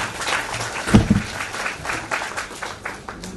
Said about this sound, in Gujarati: આપણે વક્તાશ્રીનું તાળીઓથી સ્વાગત કરીશું.